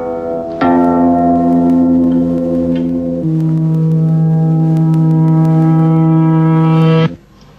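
Reversed tape recording of musical notes with the decay before the attack: a loud, sustained, bell-like tone that drops to a lower note midway, then swells and cuts off abruptly. No voices.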